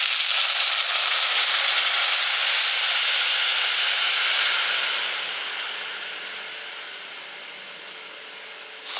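Coconut milk hitting a hot pan while cooking rice, a loud bright sizzle and hiss that fades over the last few seconds.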